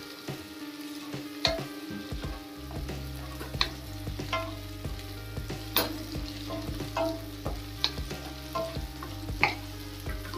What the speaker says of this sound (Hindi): अब करीब दो से तीन मिनट हाई फ्लेम पर चलाएंगे इनको